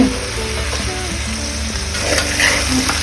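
Carrots, kohlrabi and potatoes frying in a pan for menthya vegetable pulav, a loud, close, continuous sizzle with stirring scrapes and no voices.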